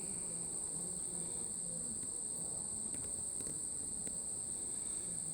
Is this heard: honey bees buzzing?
yes